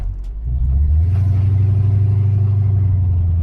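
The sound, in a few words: car engine stuttering while idling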